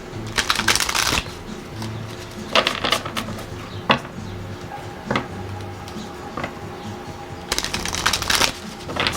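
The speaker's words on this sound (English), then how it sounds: "Let me get another oracle card." Oracle cards shuffled by hand, several bursts of rapid riffling and flicking separated by pauses and occasional single card snaps, close and fairly loud.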